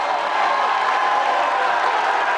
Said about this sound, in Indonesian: silahkan kalau dari para pendukung pasangan calon kita boleh tepuk tangan